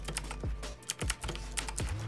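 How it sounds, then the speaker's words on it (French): Rapid, clicky keystrokes on a cheap mechanical gaming keyboard with blue switches, close and distinct, a steady uneven patter of sharp clacks with no talking. "les Blue Switch ça fait un boucan pas possible quoi. Un bruit de clic en fait."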